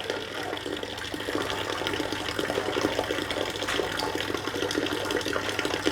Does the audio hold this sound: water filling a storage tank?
yes